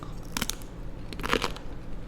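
Honey-coated sweet potato chips (keripik telo madu) crunching in bites, two clusters of crisp cracks close to the mic, one early and a louder one toward the end, with no talk over them.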